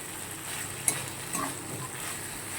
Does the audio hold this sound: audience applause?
no